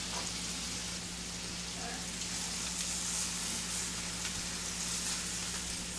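Cheeseburger patties fry in a pan with a steady, close, even sizzle and crackle that runs unbroken throughout.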